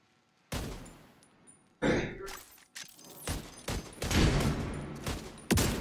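Video game gunfire with bursts of shots and sharp cracks in irregular clusters, some loud and close, separated by short quiet gaps, with a faint sigh-like vocal sound.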